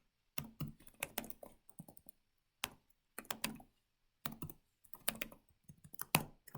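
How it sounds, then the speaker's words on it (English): Bursts of typing on a computer keyboard during a web scraping session, quick clustered key clicks in several separate runs with short pauses between, close and fairly quiet. "I'm just gonna type."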